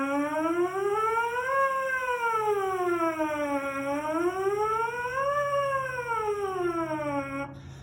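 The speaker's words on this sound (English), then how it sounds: "This is when you're going to start on a low note and gliss up to a high note and back down, glissing like a trombone would" A brass mouthpiece buzzes alone in a smooth, even siren glissando that slides from a low note up to a high one and back down, repeating the full sweep about twice.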